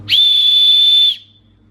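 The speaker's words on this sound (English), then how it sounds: "right on the headband, it's also got a whistle, which is very handy for signaling" A plastic signal whistle built into the headband of a Foxelli USB rechargeable headlamp gives one loud, sustained, piercing shrill blast lasting about a second, then cuts off into quiet.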